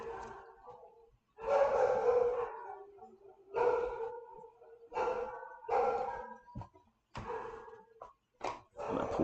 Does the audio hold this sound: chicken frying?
no